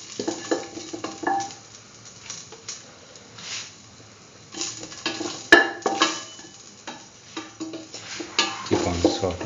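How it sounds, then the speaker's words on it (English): Curried chickpea coconut dip is sautéed in a pan, with intermittent scraping and stirring of a utensil against the pan and a soft sizzle underneath, in close, quiet bursts. "Keep on sauteing."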